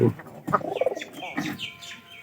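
Pigeons coo in a short burst, soft throaty calls close by with a few chirpy notes, in a quiet indoor setting.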